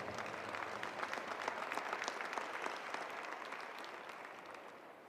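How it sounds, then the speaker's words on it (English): Audience applause rises at an athletics championship, a dense, even wash of clapping from a crowd that holds steady and then tapers slightly toward the end. "How about a round of applause?"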